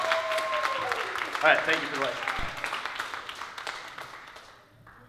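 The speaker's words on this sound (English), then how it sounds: "give him a round of applause, everyone" Audience applause at a Los Gatos High School event, clapping that fades out over a few seconds while a person speaks briefly over it.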